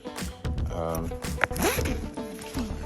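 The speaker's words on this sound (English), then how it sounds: "I'm just going to unzip this here." Main compartment zipper of a Kriega 28 backpack being opened, a close, loud ratcheting zip drawn in a couple of quick pulls, with a person talking over it.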